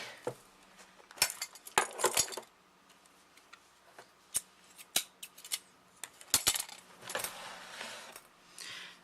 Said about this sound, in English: I'm going to cut that away.